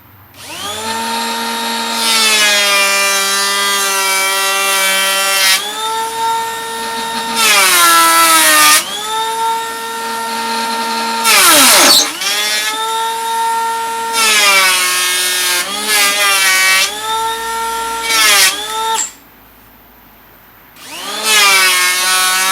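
Makita 18V cordless planers, one brushless and one brushed (DKP181 / XPK02), shave wood in repeated loud passes, each a high steady motor whine with cutting noise. Short gaps and one longer pause separate the runs.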